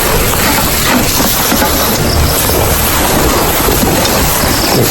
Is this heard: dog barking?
no